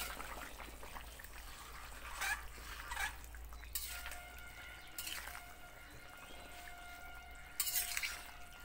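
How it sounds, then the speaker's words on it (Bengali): Quiet kitchen sounds of a lid coming off a cooking pot and a spoon stirring vegetable curry, with a few soft metallic clinks and scrapes spaced apart over low background hum. "এখন ঢাকনাটা তুলে নেব। তরকারিটা নেড়ে দেব।"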